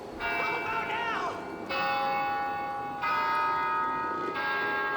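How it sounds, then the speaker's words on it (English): A church bell in the Left 4 Dead 2 video game tolls in slow, ringing strikes about every one and a half seconds, each with a long shimmering decay, loud and close, with a voice briefly heard beneath the first toll. "he'll ring the bell and it'll signal a horde"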